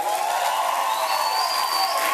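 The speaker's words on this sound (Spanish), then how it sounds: "Un aplauso para Chewbacca." Studio audience applauding a guest in a Chewbacca costume on a Venezuelan talk show, a steady wash of clapping with a faint tonal hum running beneath it throughout.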